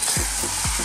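Softening vegetables stirred in a hot pan over moderate heat, a steady soft sizzle with two brief scraping strokes of the spoon, close and alone without talk.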